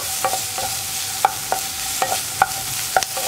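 Onions sautéing in a pan until transparent, a steady close frying hiss punctuated by sharp, regular spatula taps and scrapes against the pan.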